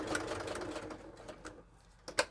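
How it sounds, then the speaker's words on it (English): A regular old sewing machine stitches steadily through several stacked layers of appliqué fabric, a fast continuous mechanical whir that eases off near the end before a brief louder clunk. "it's just a regular old sewing machine"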